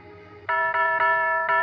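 A house doorbell chimes a few times in quick succession, bright ringing tones against a quiet background, as in an old radio drama set on Christmas Eve.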